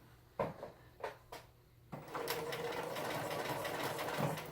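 A home sewing machine runs a straight stitch on a Halloween costume, first in a few short separate bursts, then settling into one steady, continuous whir close by.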